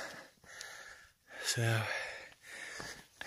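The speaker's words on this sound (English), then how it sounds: "forgive me breathing heavy, but we're just breaking out above tree line" Heavy, labored breathing from a hiker on the Appalachian Trail climbing Mt. Moosilauke just above tree line, close and gusty, with one sharp rasping inhale in the middle and talk.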